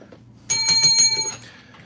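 A bell rings in a quick burst of several bright, metallic dings, close and loud, with a short ringing decay afterward.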